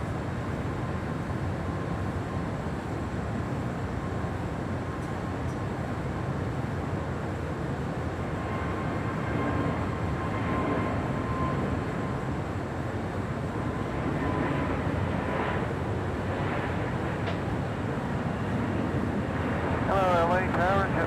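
A British Airways Boeing 777-300ER on short final to runway 25 left at LAX gives a steady, broad jet roar heard from a distance, holding level throughout with wind noise over the microphone and no voices.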